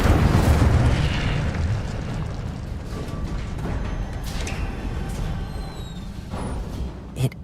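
Incendio fire spell cast in the Hogwarts Legacy video game on PS5, a loud roaring whoosh of flame that swells at the start and then rumbles on steadily, ending in a small burst.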